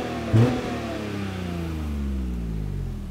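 A smoking Daihatsu car engine revs hard once while stationary, the pitch jumping up sharply then sinking slowly back toward idle over a few seconds, close and unaccompanied.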